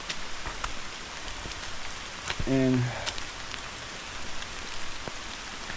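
Steady rain falls on a muddy forest hiking trail on the Appalachian Trail near Gathland State Park, a constant close hiss of drops throughout, with a brief murmur of voice partway through.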